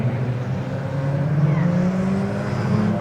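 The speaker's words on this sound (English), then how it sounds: "We see them charge down under the bridge into the daunting right-hander at Stowe Corner." Sigma 150 race cars at Silverstone circuit, a steady loud low engine drone as they charge toward Stowe Corner on a dry but cold track, sustained without a clear pass-by peak.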